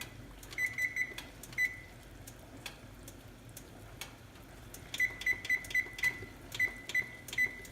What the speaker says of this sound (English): let me go ahead and start the timer.